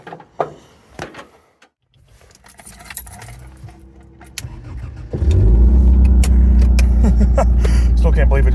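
A four-wheel-drive pickup truck readied for a test drive: keys jangle and a door clunks, then the engine cranks and catches, settling into a loud, steady close-up running rumble.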